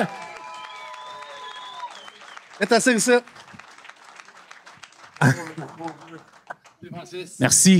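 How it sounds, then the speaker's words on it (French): A live audience at a podcast Christmas party applauds a trucking legend. Scattered clapping runs underneath while people talk and call out near the microphone in French. "on applaudit plus fort que ça"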